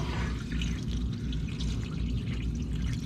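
Water pours into the radiator of a long-abandoned, leaking 1966 Chevrolet C10 pickup, a close, steady splashing glug lasting a few seconds with no talk over it.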